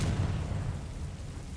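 A Confringo fire spell bursts in Hogwarts Legacy, a heavy low rumbling boom that stays loud across the whole moment, with no distinct sharp onset.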